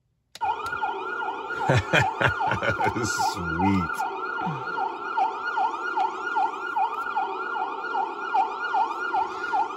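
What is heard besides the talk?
RC car siren sound module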